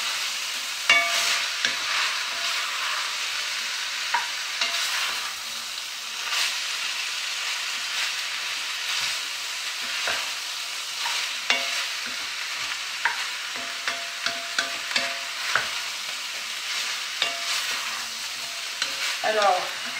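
Meat for a beef bourguignon with spices fries in a pot, a constant bright sizzle broken by repeated scraping stirs and clattering spoon strokes that grow more frequent toward the end.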